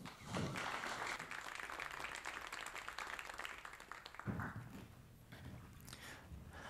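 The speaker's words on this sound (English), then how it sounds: "Please welcome with a big hand of applause, Trenton Mattingly." Audience applause welcomes a TEDx speaker at Bellarmine University, a fairly quiet, steady patter of clapping that swells briefly near the end, with no voices over it.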